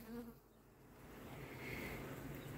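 Honey bees buzz in a steady, droning hum close by during acacia honey harvesting from hive frames, the sound swelling slightly louder as it continues, with no talking.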